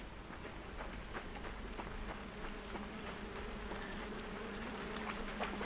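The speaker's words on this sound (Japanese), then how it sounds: "ハエ、鬱陶しいな。" Insect buzzing from flies in the dark side-scrolling game LIMBO, a steady low drone with faint flickers of motion over a quiet background, continuous and close throughout.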